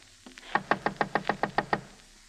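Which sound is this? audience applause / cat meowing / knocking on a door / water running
knocking on a door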